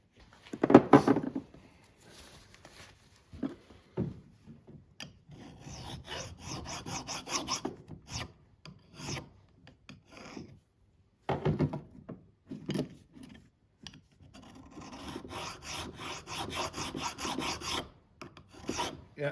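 Metal file rasping on a Land Rover Series 3 front axle brake part, likely a wheel cylinder, in repeated short strokes with pauses, close and fairly quiet.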